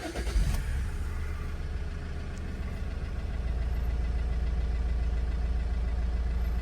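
Opel Insignia engine cranking and catching with a brief burst at the start, then settling into a steady low idle hum, close and continuous, with no talk.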